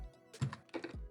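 Fingers tap briefly on a computer keyboard, a quick burst of soft, close keystroke clicks lasting about a second while entering a web address into a browser.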